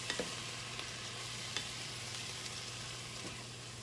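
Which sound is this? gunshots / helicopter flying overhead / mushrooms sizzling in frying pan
mushrooms sizzling in frying pan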